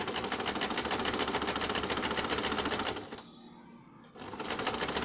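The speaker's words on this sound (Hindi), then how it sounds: "अब हम इसमें सिलाई लगा देते हैं।" Sewing machine stitching the pinned sleeve of a gown cut from an old saree, a steady rapid whirring chatter close by that pauses for about a second before resuming.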